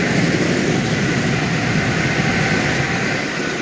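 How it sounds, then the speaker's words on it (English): A train passes close by, a loud, steady broadband roar and rumble sustained throughout with no talking. "Oh, look, another train."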